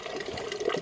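Water is poured out briefly in a home, a short, soft splash and trickle lasting under a second with no talking.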